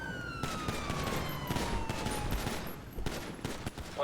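Dense, rapid gunfire from a roleplay shooter game in a tunnel firefight, overlapping bursts crackling continuously over a wailing police siren, loud and close with no pauses.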